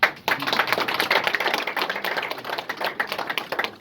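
Applause from the audience at the constitutive general assembly of a Pan-African confederation: dense, steady clapping of many hands, loud and close, running for the full stretch with no voices.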